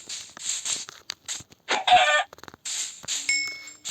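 Video game chickens cluck in short bursts, with a rooster-like call in the middle and a brief electronic tone near the end.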